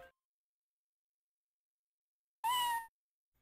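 A single short cat meow comes from a lion character in the video game Ripened Tingle's Balloon Trip of Love, clear and isolated against silence.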